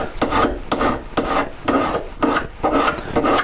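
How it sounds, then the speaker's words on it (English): A metal file rasps along the hammered edges of sterling silver wire in a series of about eight even, close back-and-forth strokes, with no talking. "the easiest way to do that is to simply file those edges down"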